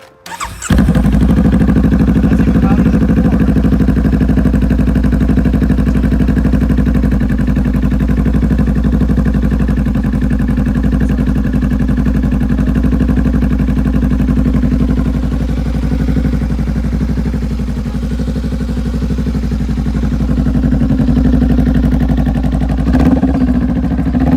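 A 125cc motorcycle engine with a rev limiter idles and runs steadily for the whole stretch, a loud continuous exhaust drone with a faint rattle, close by.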